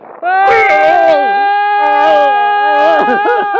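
A human voice imitates a ghost's long, wavering howl for the Jacob Marley story, loud and close, rising and sliding in pitch for a few seconds.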